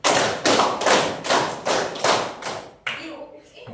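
A group of people claps in unison in a rhythmic clapping game, seven sharp loud bursts in steady succession, the last one set apart after a short pause, with faint voices beneath.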